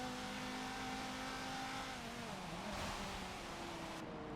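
Car engine in the racing game Forza 7, a 1989 Porsche 944 Turbo or 1997 Volvo 850R Wagon on Maple Valley Circuit, droning steadily with a pitch that sags and shifts mid-clip, fairly faint and with no talk.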